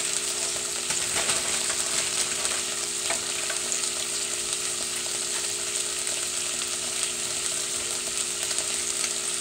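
Onions fry in a pan with a constant, dense, loud crackling sizzle that holds steady throughout, with an occasional faint stir and a low electrical hum underneath.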